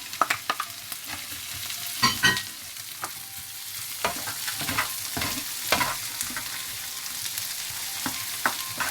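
Chicken fried rice with peas, onion and garlic sizzles in a pan while a utensil scrapes and clacks against it in irregular stirring strokes; no talking.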